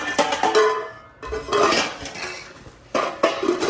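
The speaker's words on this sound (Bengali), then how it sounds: "ছোট করে প্যাক করো, একটার মধ্যে একটা ঢুকে যায় তো।" Nesting containers, likely metal pots and dishes, are clattered and stacked one inside another while packing, with several loud clinking and scraping bursts separated by brief pauses.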